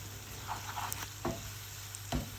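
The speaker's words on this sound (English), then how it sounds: "give it a bit of a stir, make sure it don't stick" A Myanmar curry with turmeric fries quietly in a pan, a faint sizzle broken by a few soft scrapes and knocks of a spoon stirring, near and without talk.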